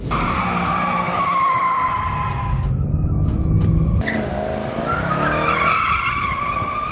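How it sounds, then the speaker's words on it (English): A Mercedes-AMG E63 S 4MATIC+ engine howls near redline on a racetrack, tires skidding and squealing as it's driven hard, with a brief lull mid-run before it roars back. "Close to the red line, the E63 makes the kind of noises that Thor would make when angry at the man who killed Loki."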